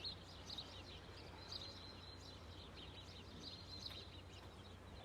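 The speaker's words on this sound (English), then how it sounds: "tune in to the sound of the birds, the sound of the water" Birds singing outdoors, faint distant chirps and short calls scattered over a low steady background hum, with no talking.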